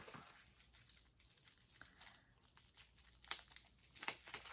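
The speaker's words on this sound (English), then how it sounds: "I might have to use my scissors to cut this tape." Crinkling and tearing of tape, cut with scissors, with rustling plastic and a couple of sharp snips near the end, fairly quiet and close.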